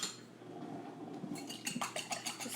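A whisk clinks quickly and rhythmically against a bowl as eggs are beaten for a quiche, faint at first and then a steady run of light metallic taps.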